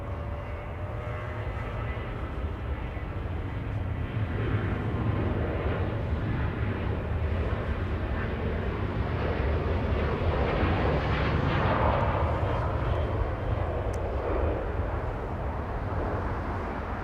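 Southwest Airlines plane on runway 24 left at LAX, a steady distant jet roar that swells slightly and holds for the whole stretch, no talking.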